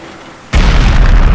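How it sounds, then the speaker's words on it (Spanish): A loud movie-style explosion sound effect bursts in after half a second of near silence, then a sustained rumbling roar with crackling debris fills the rest of the clip. "Solo le faltó la típica explosión, así que aquí va."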